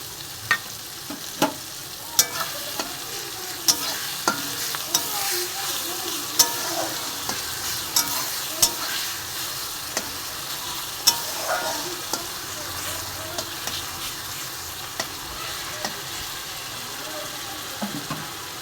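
Garlic added to frying onion sizzles in a pan, with frequent sharp scraping taps of a spatula stirring at a brisk, irregular rhythm, close up and without talk.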